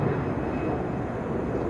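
An airplane passes over Chicago O'Hare International Airport with a steady, loud low engine rumble and roar that holds constant throughout, no voices.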